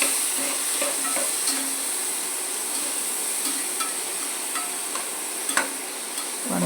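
Tomatoes sautéing in a pan for a homestyle chicken curry give a loud, continuous hissing sizzle throughout, with a few light scraping stirs and a small clink near the end.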